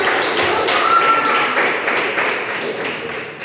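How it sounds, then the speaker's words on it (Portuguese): Members of a Christian congregation clap together at a prayer service, producing a loud, continuous wash of hand claps. "Aplauda mais forte."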